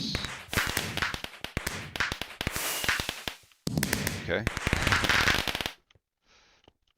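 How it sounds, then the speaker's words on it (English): Loud fireworks in the Minecraft GregTech New Horizons modpack crackle and bang in rapid, dense bursts for several seconds, with a brief spoken word at the end, then a near-silent tail. "Very loud fireworks."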